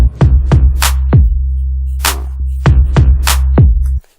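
A trap-style beat built in FL Studio plays back with booming 808 sub-bass, punchy kicks, rolled-off bass and bright snare or clap hits in a steady rhythm, loud and close, cutting off abruptly near the end.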